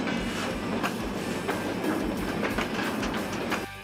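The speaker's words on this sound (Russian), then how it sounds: "А вот собственный поезд." A train rolls past on rails with a steady rumbling roar and a rhythmic clickety-clack of wheels over the track joints.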